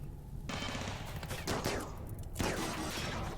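Colony gun turrets firing in Rimworld, steady automatic bursts of machine-gun fire rattling continuously, with heavier volleys kicking in after half a second and again near two and a half seconds, moderately loud with no talk.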